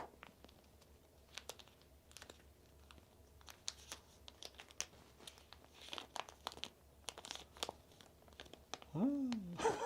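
A paper five-dollar bill being folded up for a magic trick, heard as a series of close, soft crinkles and creases, with a faint voiced sound near the end.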